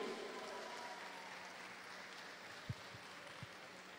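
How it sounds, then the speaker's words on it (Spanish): Applause from the audience at the opening ceremony of the Central American and Caribbean Championship in Santo Domingo, greeting the Dominican folk ballet. It comes as a steady, fairly distant wash of clapping with a couple of low thumps near the end. "Que se sienta el aplauso para el Ballet Folclórico de la Federación Dominicana de Arte y Cultura"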